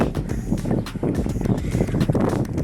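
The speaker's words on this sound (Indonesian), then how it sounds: "Anginnya banyak, anginnya kencang, enak adem." Strong wind buffets a Poco X3 Pro phone's microphone while the holder runs outdoors, giving a loud, continuous rumbling roar that gusts without a break.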